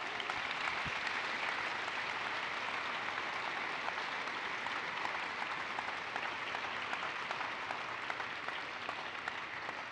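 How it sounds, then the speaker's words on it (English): Sustained applause from a crowd at a DARPA Lift Challenge awards ceremony, steady clapping throughout with no break, fairly loud and full. "Give yourself a round of applause."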